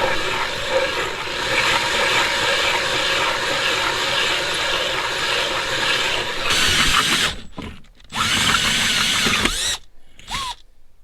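A power drill bores through the case of a Willys jeep transfer case, grinding steadily and loudly for several seconds, then cutting out in short breaks between fresh bursts of drilling, with no voices.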